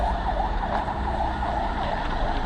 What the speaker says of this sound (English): I see the ambulance running into the Treasury